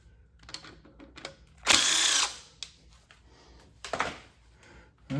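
A ratchet or power tool removes aftermarket 10 mm bolts from a tube on a Ford EcoBoost engine in a 2013 Taurus SHO, with a loud burst of spinning and a couple of shorter clicking runs between quiet pauses.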